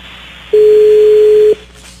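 A telephone line gives one loud, steady electronic tone lasting about a second while a call is being placed. It sits between quiet stretches of line hiss.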